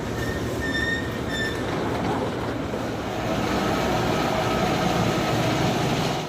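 A KRL commuter train rolls through Duri transit station with a continuous loud rumble of wheels on rail and a brief high squeal of wheels early on, heard up close.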